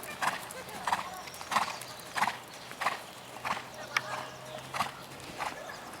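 Hooves of a ridden horse clop in a steady, even rhythm on firm ground, fairly close, with a faint whinny and a voice talking quietly in the background.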